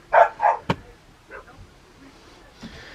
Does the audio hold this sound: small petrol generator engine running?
no